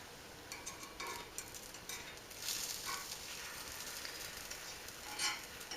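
Cheese-filled aebleskivers frying in an aebleskiver pan give off a steady, quiet sizzle, with small crackles and pops rising in short bursts.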